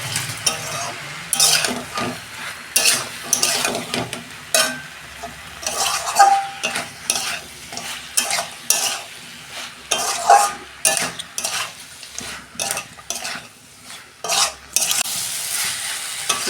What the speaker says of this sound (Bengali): আমি কষে নিয়েছি সবজিগুলো দিয়ে।